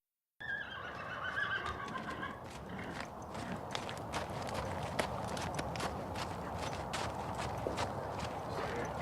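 Horses in a barn: a whinny near the start, then steady hoof clops and shuffling movement, with faint background noise throughout.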